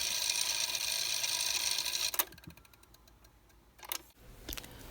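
A faulty motor in a Garrard Synchro Lab turntable runs with a fast mechanical ticking and rattle, steady and fairly loud at first, then cutting to quieter scattered clicks and knocks.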